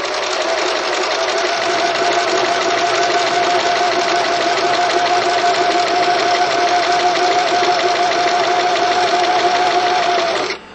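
A heavy-duty sewing machine runs continuously, stitching fabric with a loud, steady whirring hum close up, then stops abruptly at the end.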